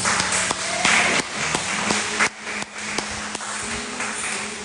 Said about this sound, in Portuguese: Aplauda o Senhor em nome de Jesus.